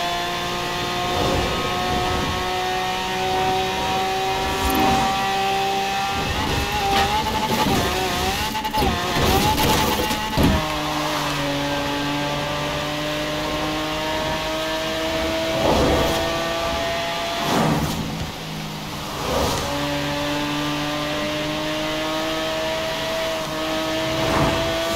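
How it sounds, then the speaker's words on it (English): Engine of a fast car in the racing game Forza Horizon 4 revs loudly and steadily for the whole stretch, rising and falling through gear changes with sharp shifts, no talk over it. "It was actually the best place to be speeding a car like this."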